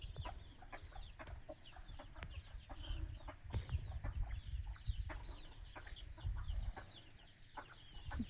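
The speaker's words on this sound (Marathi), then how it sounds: "कोंबड्यांची पिल्लं इथं सावलीसाठी येतात." Chicken chicks gathering in the shade give frequent short clucks and peeps, near and fairly steady throughout, over a low outdoor rumble with no talk.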